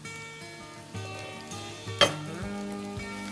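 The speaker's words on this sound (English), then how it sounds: "We're going to take the entire lot of corn and dump it in." Corn hits hot butter in a pan and sets off a steady sizzle and fry, with a brief clinking splash from the pour and no voices.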